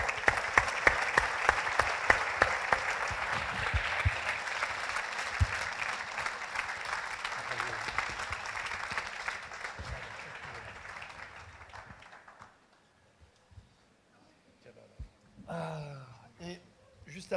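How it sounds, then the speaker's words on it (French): Loud audience applause fills the room for about twelve seconds, then fades to near silence before a voice begins speaking. "Je vous demande de l'applaudir."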